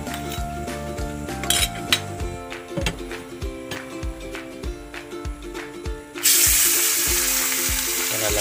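Utensils clink and scrape against a pan in uneven taps, then a loud, steady sizzle of dried fish frying bursts in near the end.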